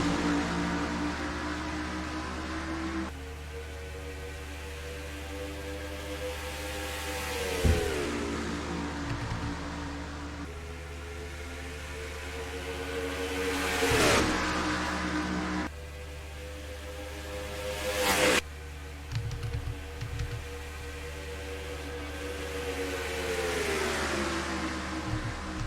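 Race truck engines roar in the NR2003 racing game at Atlanta Motor Speedway, with repeated rising and falling revving sweeps as the pack gets underway, steady and loud throughout.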